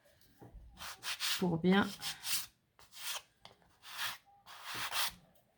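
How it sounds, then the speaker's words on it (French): Scraping strokes of a hand file on a small Scotch Craft wooden piece for a 2-in-1 bookcase Advent calendar, several rasping passes in bursts, close by, with someone speaking briefly between them. "Je vais le limer avant"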